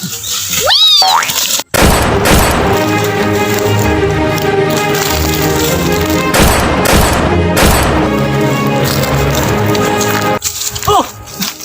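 A gunfire volley in a soldiers' clash, with loud, sustained bursts of overlapping shots in two long stretches, broken by a brief silence and framed by voices and cartoonish whooshing effects.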